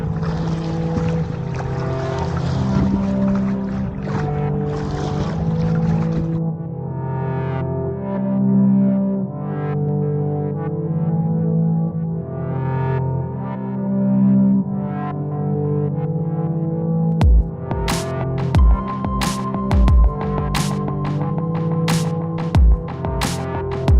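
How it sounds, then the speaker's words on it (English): The inboard engine of a sailboat runs at a steady drone while it motor-sails with a code 0 sail set. The hum holds even throughout, with some tonal warbling, and sharp knocks and clatter come in toward the end. "I've got the motor on and I'm motor sailing with a code 0."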